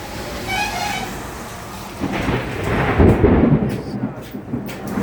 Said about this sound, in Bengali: রাস্তায় ভয়ঙ্কর অবস্থা, জোরে জোরে বাজ পড়ছে।